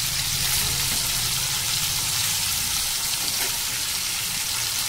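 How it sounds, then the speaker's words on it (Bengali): Hilsa fish pieces fry lightly in hot oil, giving a steady, dense sizzle with soft crackle that holds evenly throughout, close and constant. "আমি এটাকে হালকা করে জাস্ট একটু ভেজে নিই"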